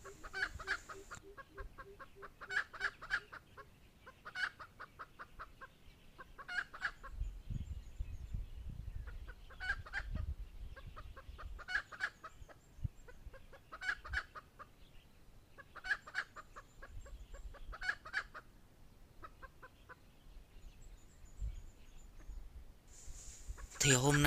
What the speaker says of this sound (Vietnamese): Cái con gà của mình nó thấy gà trống nó tục tác nha các bạn.